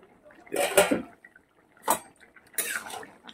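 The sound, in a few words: pot lid being lifted off a cooking pot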